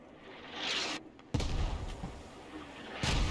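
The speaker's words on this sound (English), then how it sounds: "Instantly, already having the mortars out." Mortar rounds from the Squad military shooter fire in a sequence of sharp booming reports, one heavy thump after a brief silence and another near the end, set against outdoor battlefield noise.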